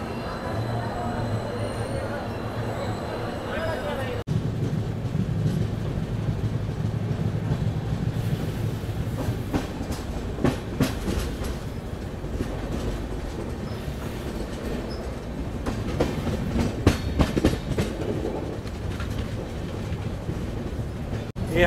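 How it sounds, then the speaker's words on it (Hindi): Yesvantpur–Vasco express train 17309 departs platform 3 at Yesvantpur station in Bangalore with a steady, close rumble. Rhythmic wheel clacks and occasional squeals run throughout. "जिसका ट्रेन नंबर है 17309, फाइनली जैसे मैंने बोला 4:50 को डिपार्ट कर चुका है यशवंतपुर के प्लेटफॉर्म नंबर 3 से"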